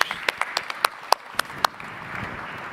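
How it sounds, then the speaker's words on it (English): At a conference on the blue and space economy, an audience applauds the panelists, opening with a few sharp, distinct claps that soon blur into soft, scattered applause fading into the room. "I want to give another round of applause to all the panelists for their nice contribution."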